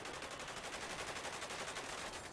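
Rapid automatic gunfire in a video game police roleplay shootout, a dense continuous rattle of shots, fairly faint and steady throughout.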